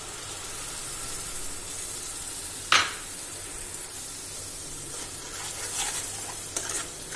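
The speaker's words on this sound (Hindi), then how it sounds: "अब इसमें हम डालेंगे वो टमाटर और मिर्च का जो हमने पेस्ट बना रखा है वो हम अब डालेंगे इस पे" Tomato and chili paste tipped onto golden brown onions in a hot pan, a sharp burst of sizzling followed by a steady hiss and occasional stirring scrapes, close and alone.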